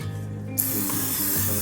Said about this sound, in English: I'm just gonna spray a little bit so it won't count for anything.